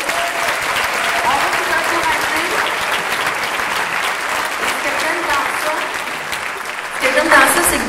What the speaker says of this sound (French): Ben oui, bonne applaudissement!